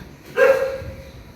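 A single short dog bark rings out at moderate distance, followed by quiet.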